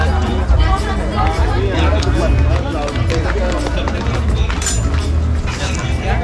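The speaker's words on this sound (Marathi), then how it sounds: "लोकांची बरीच गर्दी आहे." A dense crowd chatters at the Jotiba hill temple market on a busy Sunday, among stairs and shops selling prasad and temple goods. Many overlapping voices and footsteps form a loud, continuous hubbub close by.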